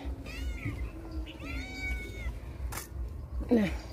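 A cat meows repeatedly with drawn-out, wavering cries close by, over a background of faint voices and household noise.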